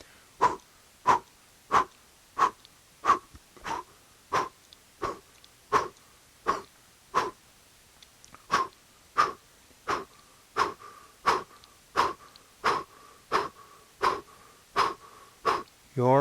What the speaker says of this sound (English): And begin that breath of fire.